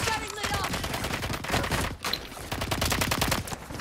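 Rapid automatic gunfire from a shooter video game, a dense, continuous burst of loud shots with a brief pause near the middle, heard close, with a voice faintly mixed in.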